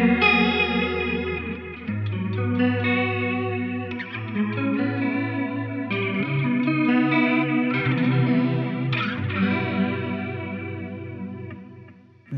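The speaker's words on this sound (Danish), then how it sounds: "Den store, ulækre 80'er chorus, den der." An electric guitar plays through a big, lush 80s-style chorus pedal, with shimmering, warbling chords and notes that sustain steadily and loudly for about twelve seconds, heard alone.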